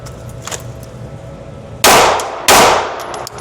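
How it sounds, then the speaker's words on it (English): Two loud handgun shots fired on target at an outdoor shooting range during an armed guard qualification drill, sharp close cracks about half a second apart, each followed by a ringing decay, with no voices. "I'm gonna fire 2 shots on target, and then we reset."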